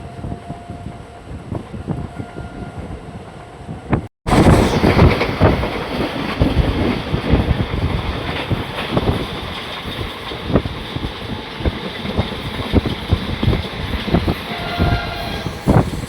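The Rameswaram–Secunderabad special express runs at speed between Tenali and Secunderabad with a loud continuous rumble and rhythmic wheel clatter. A horn sounds over the din, and there is a momentary cut near the start.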